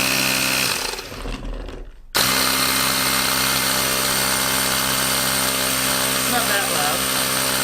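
A Ryobi P737 18-volt cordless handheld air compressor power inflator runs with a steady, loud mechanical drone that kicks on abruptly after a brief quieter moment, then holds constant to the end.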